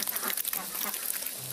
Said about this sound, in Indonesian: Lihat bebek makan seperti ini ya